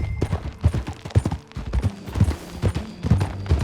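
In the Red Dead Redemption 2 game, a ridden horse's hooves clip-clop in a quick, steady rhythm of sharp, close, loud hoof strikes with no talking over them.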